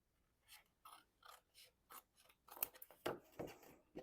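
Scissors trimming excess paper for a junk journal, a run of crisp snipping cuts that gets quicker and louder toward the end, close and alone against near silence.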